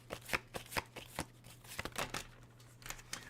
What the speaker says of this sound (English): I shuffle through the deck and I let your guides pick the highest appropriate card for you